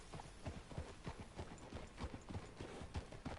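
Horse hooves clip-clop at a steady walking pace in the video game Red Dead Redemption 2, a soft, even rhythm of dull thuds in the background.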